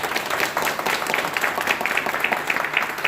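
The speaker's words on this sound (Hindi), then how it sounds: "एक बार जोरदार ताली" A crowd at an LIC insurance agents' motivational gathering bursts into loud, dense applause, a steady wash of many hands clapping close by for about three seconds, with no voices on top.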